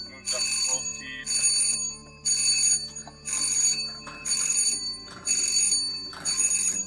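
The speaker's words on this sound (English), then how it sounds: "Bell pulsates as you move close." The warning bell of a JaCor Titan hangar door drive rings in loud, bright pulses of about half a second, repeating roughly every second over a low motor hum.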